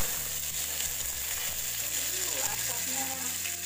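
Sliced chili hitting a hot pan and stir-frying, a loud continuous sizzle close by with scraping stirring strokes and brief rattles of the utensil, no talk.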